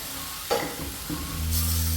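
Cooked papaya dropped into a pan of roasted semolina (rava) gives a soft thump and a brief sizzle, then stirring scrapes close by, with no voices.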